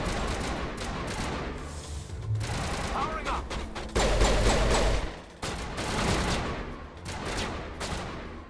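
Rapid gunfire from a video game battle, dense volleys of shots with heavier bursts near the middle, loud and continuous with a voice talking over parts of it.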